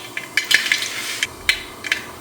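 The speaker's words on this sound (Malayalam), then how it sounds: "ഇപ്പം നമ്മുടെ കടുക് പൊട്ടുന്നുണ്ട്." Mustard seeds crackle in hot coconut oil inside a large Hindalium urali, making sharp scattered pops close by against a quiet background, with a few louder bursts among them.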